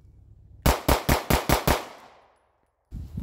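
Six rapid pistol shots are fired from concealment at an A-zone target seven yards away. The sharp cracks are loud and evenly spaced within about a second, then fade into echo before a brief noise follows.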